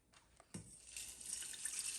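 Water poured into a pan while making clove tea, a quiet start followed by a steady hissing splash that builds and continues to the end, close and alone.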